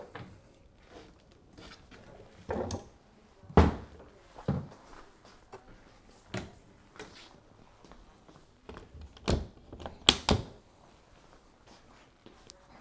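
Lockable, padlockable cabinet doors are opened and shut repeatedly, with clicks, knocks and latching thuds scattered irregularly over a quiet room.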